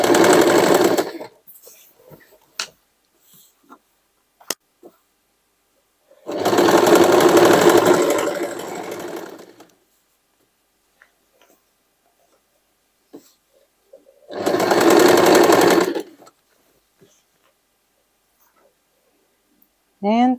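A sewing machine stitches a denim hoodie made from old jeans in two sustained bursts of several seconds each, separated by quiet stretches with faint handling clicks.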